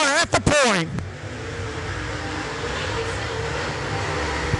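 Race cars circle the Springfield dirt track in a steady distant engine drone, following a short burst of rising engine whine near the start, while an announcer talks over the noise.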